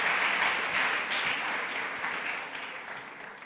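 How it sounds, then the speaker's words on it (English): Audience clapping at a singles conference, a soft, even wash of hands from a crowd that slowly tapers over a few seconds. "Let's clap for Pastor Isaac."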